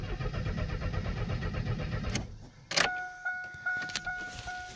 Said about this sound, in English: I'm not hearing the fuel pump.